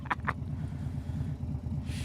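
A motorcycle engine on a ride to Buffalo Wild Wings, giving a steady, low, throbbing idle-like rumble up close that carries on unbroken under a couple of faint clicks.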